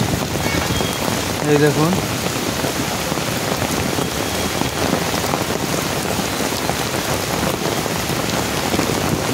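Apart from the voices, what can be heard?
heavy rain falling in a park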